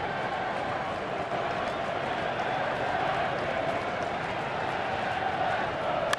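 Crowd of over 42,000 at Wrigley Field during a 2015 Cubs–Cardinals playoff game, a continuous broad roar of noise holding steady and loud throughout.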